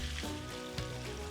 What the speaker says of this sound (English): Last batch is frying away.